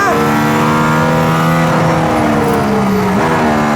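A Mercedes AMG ONE hypercar engine screams to high revs, then a quick upshift drops the pitch before it climbs again, loud and close throughout, with faint talk beneath.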